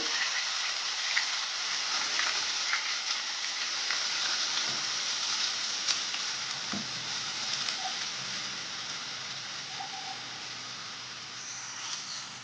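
Chopped onion fries in hot oil in a pan while a Telugu fish curry is cooked, giving a steady, even sizzling hiss with faint crackles throughout and no talking.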